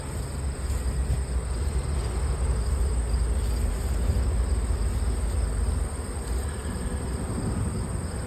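Honey bees from an opened hive being inspected, a frame of brood lifted and shaken, make a dense continuous hum close by, steady throughout with a constant noisy wash.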